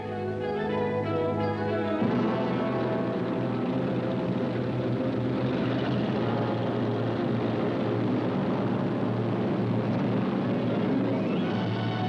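Engines of World War II British bombers drone steadily and loudly, a continuous throbbing roar that holds for several seconds under a dense, unbroken wall of sound.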